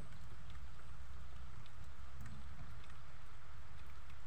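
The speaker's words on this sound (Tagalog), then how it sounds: "malakas na yung ulan natin" Heavy rain pours steadily over farmland planted with crops, a dense continuous hiss with scattered drops, close and fairly loud throughout with no talking.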